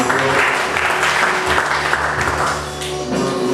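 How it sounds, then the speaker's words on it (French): A church congregation at a French-language service claps together, a dense, loud applause that continues for several seconds and eases slightly near the end. "Applaudissez pour le Seigneur."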